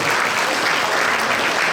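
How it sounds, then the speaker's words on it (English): An audience at a Republican Club meeting claps hands in a full, even wash of applause that holds steady and loud throughout. "Clap your hands if you get a healthy"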